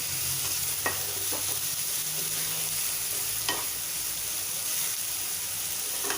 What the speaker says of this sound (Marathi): लालसर होईपर्यंत परतून घ्यायचा आहे पण असं मधून मधून हलवायचं आहे